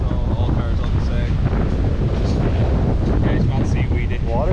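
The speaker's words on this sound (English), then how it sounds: "Water's a bit choppy." Strong wind buffets the microphone over choppy sea waves by a boat, a steady loud roar throughout with no clear speech.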